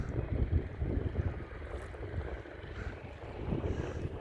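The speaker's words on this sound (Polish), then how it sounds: "dzisiaj widać, że się wiatr wzmógł" Strong wind roars and buffets the microphone in uneven gusts at a seaside resort in Marsa Alam, Egypt, with a low rumbling texture and no voices.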